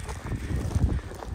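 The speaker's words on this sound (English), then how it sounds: "I hope you can hear my voice through this wind." Blustery winter snowstorm wind buffeting the microphone during a night walk through streets in Rykkinn, Norway, a steady low rumble with gusty swells throughout.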